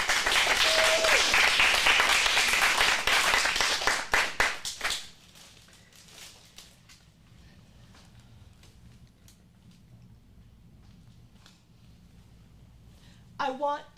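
Audience applause greets the next performer at an adult acting-studio script showcase, loud dense clapping for about five seconds that thins to scattered claps and fades into a quiet room, with a brief voice near the end.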